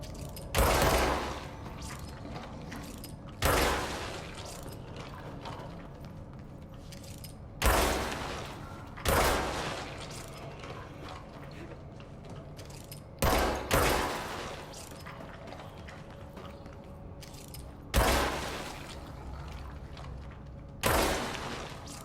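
Gunfire in the video game Control: about seven separate loud, sharp bursts spaced several seconds apart, each one decaying quickly into a low ambient rumble.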